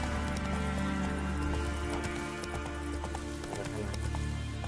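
Roach the horse gallops across ground in Witcher 3, with rapid clip-clop hoofbeats over a rainy, rustling game backdrop at moderate volume.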